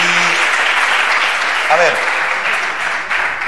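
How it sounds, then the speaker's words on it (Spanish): An audience claps steadily throughout a science and math magic presentation, dense and loud, with a voice speaking briefly over the applause. "Vale, aplauso para ellos."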